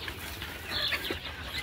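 Desi hens on a poultry farm cluck and chirp in a low, steady flock murmur, with a few brighter calls standing out briefly.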